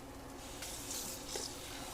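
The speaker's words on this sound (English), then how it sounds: "I'm gonna go ahead and run a little bit of cold water over those" Cold tap water runs briefly over freshly cooked green vegetables in a kitchen sink, a soft, faint splashing hiss lasting a couple of seconds with no talk.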